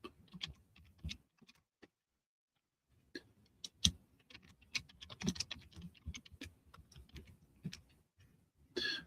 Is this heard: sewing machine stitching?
no